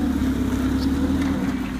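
Forklift engine running steadily as the truck drives forward, a constant low droning hum, close and even throughout with no voices.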